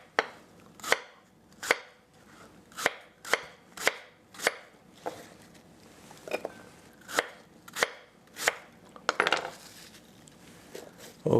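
A knife cuts apples on a cutting board, sounding as a dozen or so sharp, close knocks against the wood at an uneven, unhurried pace, with a few softer scrapes between them.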